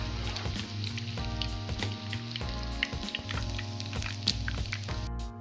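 Black lentil (malka masoor) kebabs sizzle steadily in hot oil after being flipped, a continuous close frying hiss with scattered pops and spatters over a low steady hum.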